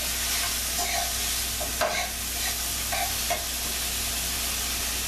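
Mushrooms frying in butter hiss and sizzle steadily in a pan while a utensil stirs them, a few soft scraping taps breaking through the constant close crackle.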